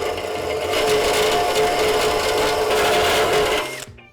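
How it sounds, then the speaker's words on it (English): A drill bit grinds steadily through the metal of an oil pan, a loud, close, continuous rasping whine that holds for several seconds and then stops abruptly. "Let's get it back over and continue trying to drill this hole."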